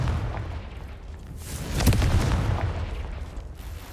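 A Confringo blasting spell going off in Hogwarts Legacy, one dense rumbling explosion swelling midway through a steady roar of game noise and then slowly tapering.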